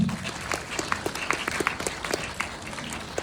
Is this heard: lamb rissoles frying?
no